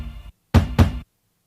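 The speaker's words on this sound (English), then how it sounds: "I took this one hit as a kick drum" A funk record's stab hit, sampled and used as a kick drum, lands first as a single thump and then as two close, punchy low hits that stop abruptly, leaving silence.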